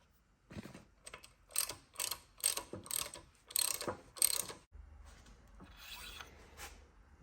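Quick bursts of ratcheting from a hand ratchet torquing the trapdoor bolts of a Baker six-speed transmission on a Harley-Davidson Bad Boy, about seven short clicking strokes in a row, close and alone, then a steady low hum.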